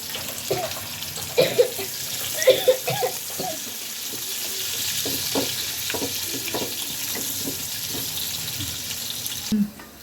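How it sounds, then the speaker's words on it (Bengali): Chopped onions sizzle steadily in a hot pan for a spicy duck curry, with a continuous frying hiss and a few louder spatters and stirring knocks near the start. "দেখছেন এই যে পেঁয়াজটা প্রায় 3-4 মিনিট ভাজলাম"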